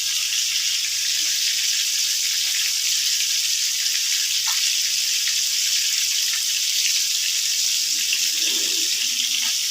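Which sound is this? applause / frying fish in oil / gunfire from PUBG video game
frying fish in oil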